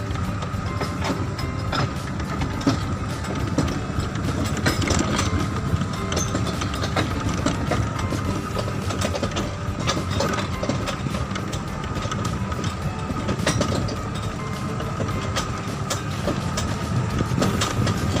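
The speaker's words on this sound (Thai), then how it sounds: "ขึ้นรถไถแบบนี้นะจ๊ะ" Riding a tractor in rural France, a steady loud engine drone with rattling, clattering mechanical noise throughout and no talking.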